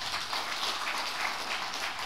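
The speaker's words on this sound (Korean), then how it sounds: "큰 박수 부탁드립니다" An audience at a health lecture on knee arthritis applauds steadily, a dense wash of clapping from many hands at moderate distance.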